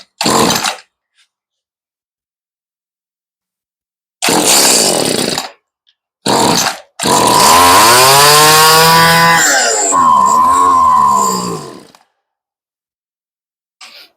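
A Stihl weedeater's small two-stroke engine, just after a carburetor rebuild, fires in short sputtering bursts with gaps of silence, then catches and runs for several seconds with rising and falling revs before cutting out.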